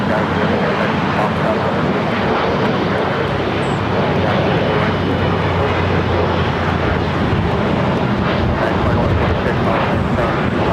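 An airliner comes in to land at LAX on the south side, its engine roar loud and steady throughout, with voices talking over the noise.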